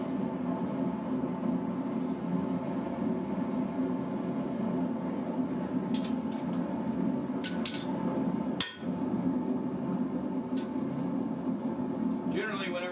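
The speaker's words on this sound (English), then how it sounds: "Generally, whenever you hammer, you want to make sure you do exactly the same thing on both sides" Hammering hot metal at a blacksmith's forge, with a few sharp metallic strikes ringing out over a constant roaring blower or fire noise, fairly close.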